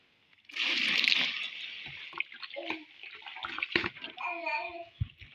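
Liquid is poured into a homemade foamy liquid soap mixture in one steady gush lasting about a second, then gives way to quieter sloshing, splashes and handling noises nearby.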